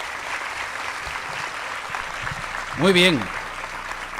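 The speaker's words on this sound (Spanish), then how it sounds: "Un aplauso, por favor, para todos ellos." Applause from an audience honoring Marianist teachers at a media literacy dialogue panel, a steady crowd-wide patter under a man's brief spoken words, swelling slightly near the end.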